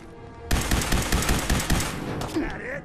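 Gunshots in Fallout 4 break out as a rapid rhythmic string of about a dozen close, loud reports over roughly a second and a half, then a couple of scattered shots as the firing trails off.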